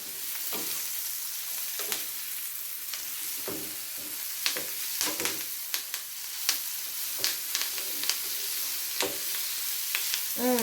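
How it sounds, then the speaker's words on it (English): Bell peppers and other aromatics sauté in a pan with a continuous close sizzle, broken by repeated sharp scrapes and taps of a utensil stirring, and no talking. "So I'm just going to saute this just for say about 2 minutes"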